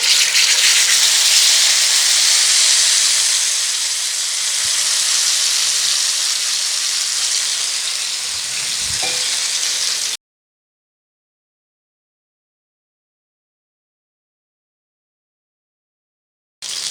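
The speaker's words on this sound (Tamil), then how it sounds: "ஷாலோ ஃப்ரை பண்ணி எடுத்துக்க போகிறேன் இன்றைக்கி தோசை டவாவில்" A large whole fish shallow frying in hot oil on a dosa tawa gives a loud, close, continuous hissing sizzle for about ten seconds, then cuts off abruptly into silence.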